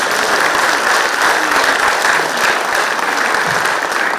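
An audience at a yoga conference gives a sustained round of applause, thick continuous clapping at steady loudness throughout the few seconds, with no talking.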